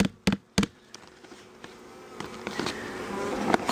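Live wasps, around a dozen, crawl about inside a queen rearing hive in winter, a soft insect buzz under a few sharp knocks and rustles near the start, growing slightly louder toward the end.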